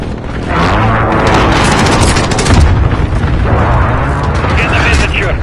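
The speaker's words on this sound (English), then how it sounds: "Enemy cluster strike!" Cluster strike explosions in Modern Warfare, a loud rolling series of deep booms and blasts lasting several seconds, with game voices shouting underneath.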